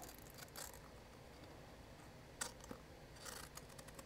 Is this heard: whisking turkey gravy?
no